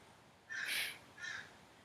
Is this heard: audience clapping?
no